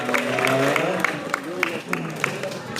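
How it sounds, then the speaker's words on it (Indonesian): Audience at a Ramadan sermon clapping together, a moderately loud burst of applause with some voices mixed in, fading toward the end. "Tepuk tangan untuk ikhwan."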